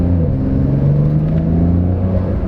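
A 2020 Porsche 911 of the 992 generation with sport exhaust revs up, its engine making a loud, steady, close drone whose pitch climbs gradually and then holds.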